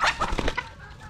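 A short burst of young hens clucking up close, several quick calls in a row that trail off into quiet.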